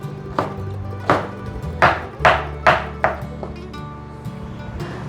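Fresh shiitake mushrooms being chopped finely with a knife on a cutting board, a run of sharp, close knife strikes in an uneven rhythm, about seven clear chops with softer taps between.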